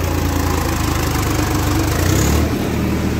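A Swaraj 855 FE three-speed tractor engine runs steadily nearby, a loud, even diesel chug with a low rhythmic throb and no voices.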